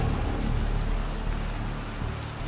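Steady rain hisses evenly throughout with a low rumble beneath it, continuous and fairly close, with no voices.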